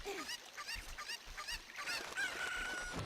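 Chicken clucks and squawks from the game Zelda: Ocarina of Time come in short repeated bursts over a faint game background, ending in a sustained tone.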